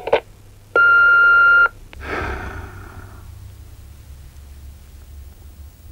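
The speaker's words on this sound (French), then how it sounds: "Veuillez me laisser un message après le bip." One loud, steady electronic beep lasting about a second, followed by soft breathy noise over a low hum.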